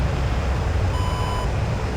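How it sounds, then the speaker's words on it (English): Cockpit warning beeping inside an AJS-37 Viggen jet in the DCS World flight simulator, a single steady electronic tone lasting about half a second over a constant low engine rumble. "why is that beeping?"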